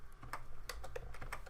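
Quiet, irregular clicks of keys being tapped on a computer keyboard, about a dozen light strokes in a short burst, close by and faint, with no voices.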